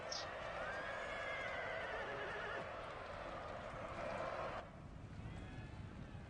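A horse neighs loudly at the start of a Napoleon: Total War battle, then a steady rumble of hooves and battle noise carries on for several seconds before it suddenly drops quieter near the end.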